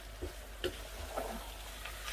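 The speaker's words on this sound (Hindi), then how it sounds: "बस हम इसको 2 से 3 मिनट से स्टीयर करेंगे ताकि थोड़ा सा हमारा ये जो है खोया वो इसमें मिक्स हो जाए" A spoon stirs khoya into carrot halwa in a pan, giving soft, scattered scrapes and taps over a low, steady sizzle from the cooking mixture, close and fairly quiet, with no talk.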